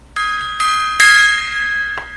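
A struck metal gong rings out in a short solo, three separate hits each followed by a sustained, shimmering resonance that decays slowly, close and fairly loud with no talking over it.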